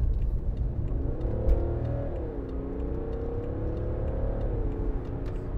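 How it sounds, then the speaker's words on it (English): A 2015 BMW 535d diesel saloon accelerating hard onto a dual carriageway, heard from inside the cabin as a steady engine drone with rising and falling pitch under road noise. "I'm just going to gun it when we get on the dual carriageway if it's clear"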